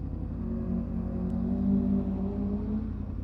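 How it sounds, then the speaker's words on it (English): An old Ford Cortina car rumbles past nearby, its low engine note swelling toward the middle and easing off again, with no talking. "looks like an old Ford Cortina"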